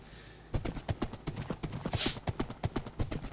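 Steady horse hoofbeats in a video game clip-clop at a quick, even trot, close and clear, with no voices.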